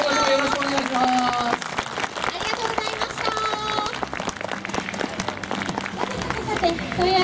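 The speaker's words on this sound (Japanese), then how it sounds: "大きな拍手をお願いします" Applause from an audience greeting a guest at a 2013 New Year baseball talk show, uneven clapping mixed with voices and stage noise, lively and mid-distance throughout.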